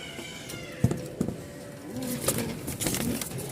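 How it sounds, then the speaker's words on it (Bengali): A pair of pigeons coo softly and intermittently at close range, with faint wing flaps and a few thumps in a quiet setting. "তো এই হচ্ছে কবুতর জোড়া"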